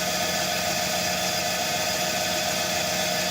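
DC shunt motor in an energy conversion lab test, running under load at about 0.9 torque near 1549 rpm, giving a steady, continuous mid-pitched hum and whine with broadband noise and no pauses, alone without talk.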